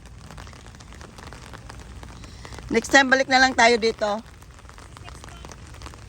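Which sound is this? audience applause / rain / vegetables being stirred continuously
rain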